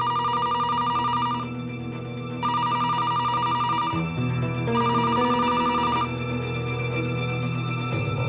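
A telephone rings in repeated electronic trilling bursts with short pauses between them, loud and close, with a low steady tone underneath.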